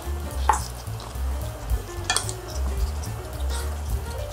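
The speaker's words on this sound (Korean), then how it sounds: "양념을 골고루 섞어서 좀 볶아주세요." Pork sizzles in a hot pan while seasoning is stirred through it, a steady frying hiss broken by scraping and clinking as the utensil turns the meat, close and clear with no talking.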